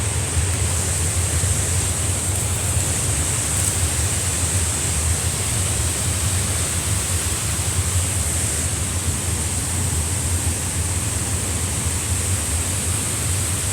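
A tall waterfall crashes down in a continuous, loud, roaring rush of water that stays even and unbroken throughout, with no voices.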